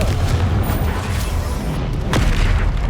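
Confringo fire spell explosions in Hogwarts Legacy sound as a loud, continuous rumble of booms and blasts, with a sharp crack near the end over dense battle noise.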